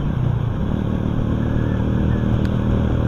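Motorcycle engine while riding on a road in Bulacan, Philippines, a steady close drone with wind rush and rattle, continuous and fairly loud with no talk.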